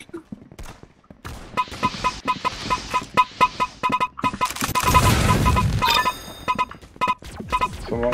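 Gunfire in the Roblox Arsenal video game, a run of sharp shots and rapid bursts with electronic game tones, building into a dense barrage near the middle before more scattered shots.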